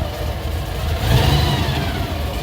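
A 1955 Chevy engine runs steadily and close by, then revs up in a short swell before settling back to a loud, even idle.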